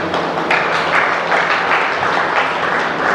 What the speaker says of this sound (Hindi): अभी आपने ताली बजाई